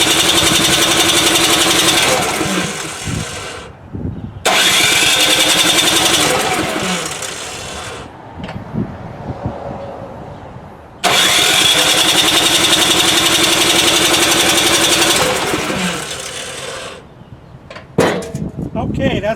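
An electric-start snowblower engine running out of fuel roars in three long loud bursts, each cutting off into quieter gaps with scattered clunks and sputters, before a final short flurry.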